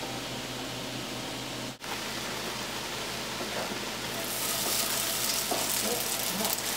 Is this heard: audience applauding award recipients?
no